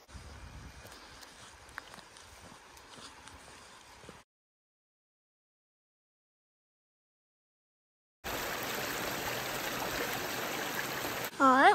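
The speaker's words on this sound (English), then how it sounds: "All right, we got another waterfall." A waterfall called Mountain Falls beside the Appalachian Trail gives a steady broadband rush of falling water, heard first, then a few seconds of silence, then louder and closer water noise, ending with a brief sharp sound.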